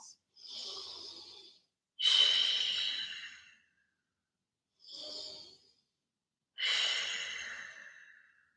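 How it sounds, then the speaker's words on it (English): Deep breathing during a yoga flow, four slow, close breaths alternating long inhales and exhales with clear silent pauses between them and no speech. "3 deep breaths."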